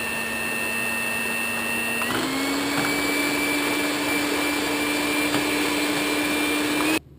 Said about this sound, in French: je monte mes blancs d'œufs avec le sucre qui reste